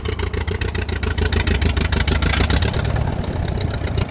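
The engine of an Allis-Chalmers WD forklift idles close by, loud and steady with a rapid, even chugging pulse throughout.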